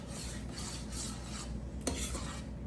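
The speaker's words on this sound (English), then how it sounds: "Make sure you stir in the corners of that pan so it doesn't scorch" Spoon scraping and rasping steadily around a pan of thickening strawberry pie glaze, a continuous close rubbing stir with a brief clink near the end.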